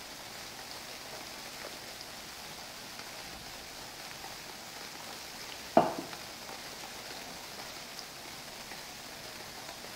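Steady hiss of rain falling in the UnReal World survival game during an elk hunt, constant and even, with one brief sharp tap midway and no voices.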